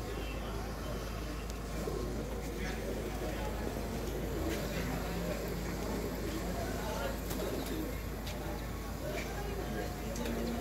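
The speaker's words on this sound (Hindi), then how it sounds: "ਛੱਡ ਕੇ ਵੇਖੋ ਕਬੂਤਰ ਨੂੰ" Pigeons coo softly amid outdoor background noise, with people talking nearby.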